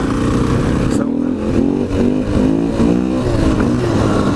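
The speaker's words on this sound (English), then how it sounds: "just prior to the oil draining, if you do a wheelie, it helps things out" A KTM 500 EXC dirt bike engine revs hard during a wheelie, its loud, close, rising and falling engine tone repeating through several throttle bursts, with no voice over it.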